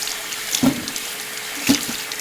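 Tap water running briefly while tomatoes are rinsed in a kitchen sink, two short splashy bursts of water rising over a soft steady background hiss, close and moderately loud.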